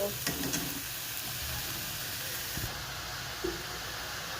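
Salted shrimp and water lily stems frying in a pan, a soft continuous sizzle and hiss with occasional stirring taps, fairly quiet and close.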